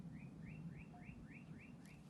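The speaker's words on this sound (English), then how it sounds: "I can hear the birds chirping." Birds in an outdoor park repeat a short rising chirp about seven times at an even pace, faint and distant over a low background hum.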